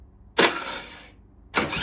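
A 1982 Honda Melody scooter with fuel system trouble cranks over in two short bursts, the first whirring about a second before cutting out, the second starting just after, close and clear.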